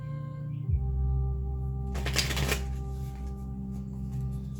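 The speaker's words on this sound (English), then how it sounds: "let me do a few shuffles" A brief burst of riffling tarot cards being shuffled, close and crisp, lasting under a second against a steady low electrical hum.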